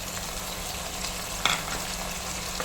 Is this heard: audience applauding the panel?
no